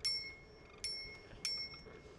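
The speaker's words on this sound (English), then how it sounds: "You have a simple bell here." Three bright metallic dings from a small, simple bell on a Heybike EC1 e-bike, evenly spaced, each ringing briefly and fading, close by with a faint background hum.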